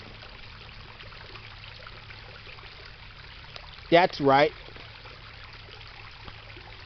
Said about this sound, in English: The running water from the fire hydrant. The flushing fire hydrant.